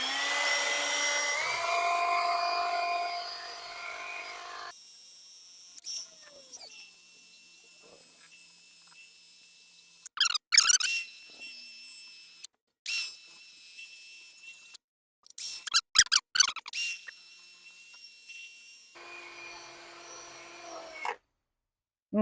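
A power tool whines steadily at high pitch while rust is scrubbed off a vintage drill press, likely with a wire brush, broken by long quiet gaps and bursts of clattering and scraping contact.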